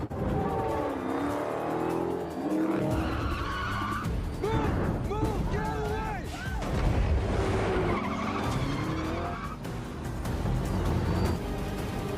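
A garbage truck skids through a car chase scene in the action film Blacklight, with loud tire squeal and engine noise over dense, busy film sound effects and music throughout.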